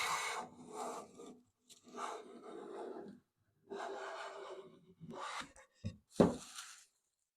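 A SOBA 4-1/2 jumbo smoothing hand plane cutting wood shavings at a workbench, with several close, rasping strokes of about a second each, separated by short pauses and ending in a few quicker swipes, with no talk.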